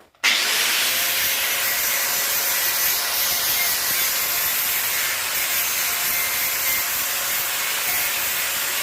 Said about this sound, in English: we'll just grind galvanising off, because it's not very nice when you weld it